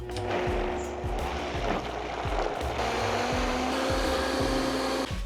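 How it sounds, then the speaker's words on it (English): A blender runs on high speed, whirring hummus into a pasta sauce with a loud steady motor drone and rhythmic low thumps as the contents churn, no talking over it. "pop a lid on your blender and blend on high speed until it's nice and smooth"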